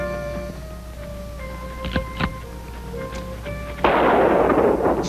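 Two sharp gunshots crack in quick succession in the Western film Gunslinger over a steady humming tone, followed by a burst of loud, harsh noise rushing in near the end.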